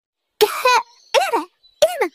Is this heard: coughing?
yes